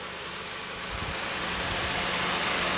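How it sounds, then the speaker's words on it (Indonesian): A Honda engine of the type fitted to the Honda Stream runs at a steady idle in a workshop, a constant loud mechanical drone with a slight lift in level partway through and no talk over it. "ini adalah salah satu mesin Honda ya yang dipakai pada mobil Stream ya."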